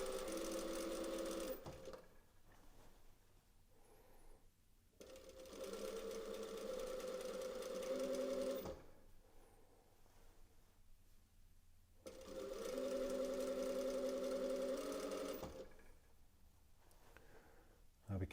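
A needle feed sewing machine runs stitches along a stretchy fabric hem beside an earlier stitch line, in two long steady bursts with a quiet pause between them and a short stop-start near the beginning.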